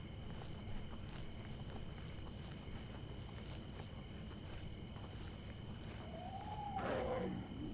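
Steady rhythmic clip-clop of horse hooves in Oblivion Remastered over a dense, continuous game soundscape, with a brief rising whoosh near the end.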